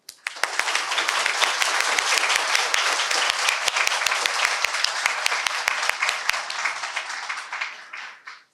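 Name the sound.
round of applause welcoming distinguished guests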